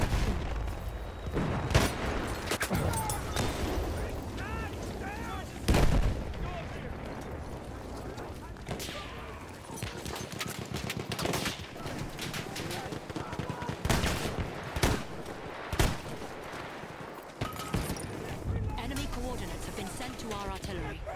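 Artillery fire and gunfire in the video game Battlefield 1: repeated heavy booms and bursts of shots scattered through a dense battle mix, with radio voices talking over the action.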